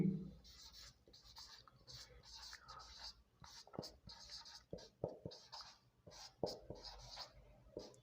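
Writing on a board during a physics lesson: soft scratchy strokes and taps of a pen or marker in short bursts, faint and close, with quiet murmured speech in between.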